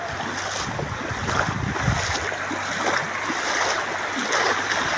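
Floodwater surges through a village, a broad rushing wash of moving water with a gusty, windy roar and a low steady hum underneath.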